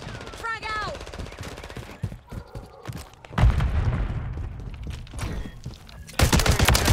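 Call of Duty frag grenade explosion amid loud game gunfire: rapid automatic shots, thuds and a heavy burst near the end, with brief voice callouts in the mix.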